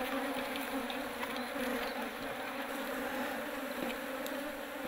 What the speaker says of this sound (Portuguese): Eu sou apaixonado pela abelha.